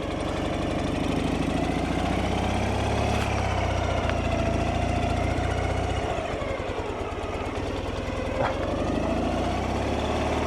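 A car engine idles with a steady low rumble and slight knocking throughout, close and continuous, with no talk over it.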